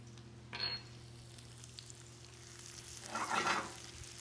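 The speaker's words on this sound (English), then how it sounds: "Then I'm going to turn this guy down to about medium and add shallot." Finely diced shallot sizzling in rendered bacon fat over medium heat, a faint, soft hiss that swells briefly near the start and again toward the end, close but quiet with no talking.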